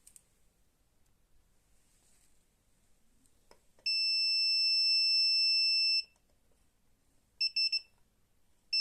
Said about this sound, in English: This system would trigger an alarm when the laser light is blocked and stops reaching the LDR